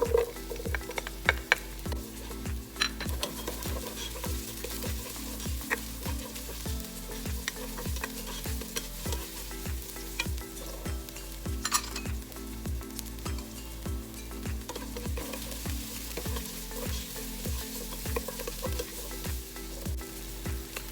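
Onion frying in a pan sizzles steadily up close, with a soft regular scraping of stirring heard under the hiss the whole way through.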